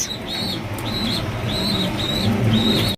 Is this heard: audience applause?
no